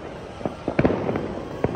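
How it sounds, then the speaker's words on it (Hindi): Fireworks and firecrackers burst at a Makar Sankranti kite festival near Nahargarh Fort in Jaipur, several sharp bangs and crackles at irregular intervals, fairly close, over a background crowd murmur. "ये देखो भाई क्या धमाधम पटाखे हो रहे हैं यार यहाँ"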